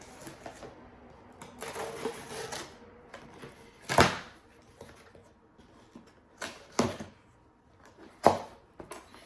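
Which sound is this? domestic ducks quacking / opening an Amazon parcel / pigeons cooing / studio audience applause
opening an Amazon parcel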